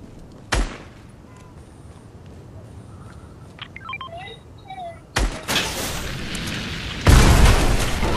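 Rocket blasts in the video game Fortnite come as sudden loud booms separated by quieter stretches, with electronic game tones between them and a last heavy, sustained explosive roar.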